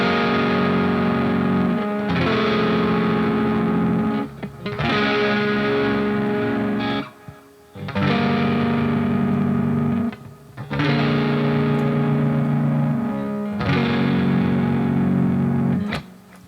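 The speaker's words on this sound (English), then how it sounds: "All right, so all together this chord progression, when we move through it just strumming slowly," Distorted electric guitar slowly strums a song's chord progression, each loud, sustained chord ringing for about two to three seconds before the next, with brief gaps between changes, played alone.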